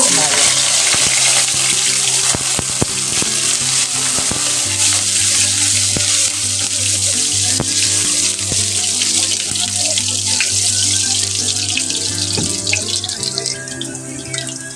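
Garlic frying in hot cooking oil in a pan, a loud, continuous crackling sizzle that holds steady throughout, close by, with no talking.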